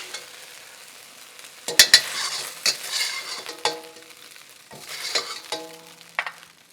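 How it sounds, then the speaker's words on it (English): Pieces of beef brown in a frying pan under a soft constant sizzle, broken by several sharp scrapes and clanks as a utensil stirs and turns the meat, close and without talk. "I'm going to mix it up, get the other side brown."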